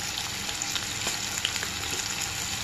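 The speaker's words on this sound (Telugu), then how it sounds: "ఆయిల్లో కాస్తంత ఉప్పు వేస్తే ఉల్లిపాయ ముక్కలు అనేవి త్వరగా వేగుతాయి." Onion pieces fry in oil with salt while making chicken pakoda curry, a steady, close sizzle with small crackling pops and faint stirring throughout.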